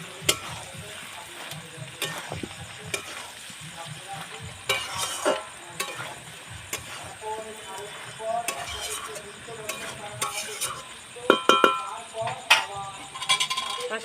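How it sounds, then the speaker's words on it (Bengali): Mutton curry with potatoes stir-fried in a pan produces a low sizzle broken by sharp metallic clinks and scrapes of a spatula, irregular and close, with faint devotional singing in the distance. "আর একটুখানি কষিয়ে নেব এই মাংসটা যত কষাবে তত ভালো"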